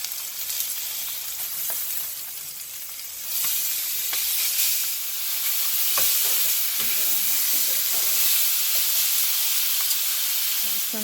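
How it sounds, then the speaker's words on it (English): Pork chops browning in a hot pan give a steady, loud sizzle that swells after a few seconds, with occasional clicks and scrapes from turning the meat and no talk. "Now I'm going to brown them for about 3 to 5 minutes on each side."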